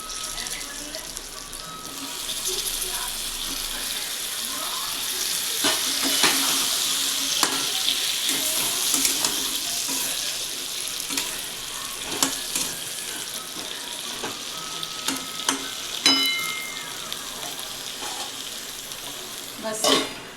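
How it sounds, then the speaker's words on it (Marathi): Potatoes and masala fry in a pan with a steady sizzle and scraping stirring clicks throughout, close and continuous, with a few sharper knocks near the end. "आता चांगलं फ्राय करून घ्यायचं"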